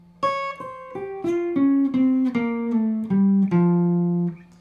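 Fast electric guitar lick starting on the downbeat, a run of about a dozen clean, bright plucked and slid notes descending in pitch, played alone with no talking.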